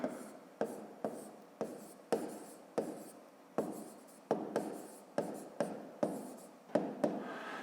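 Pen or pencil writing a subtraction check by hand on paper, close and fairly quiet, in a steady series of short scratchy strokes with brief pauses between them, no talking.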